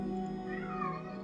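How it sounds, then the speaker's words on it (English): A domestic cat gives one drawn-out, wavering meow, faint and somewhat distant over a steady low hum from a computer game in the background. "And my cat's screaming."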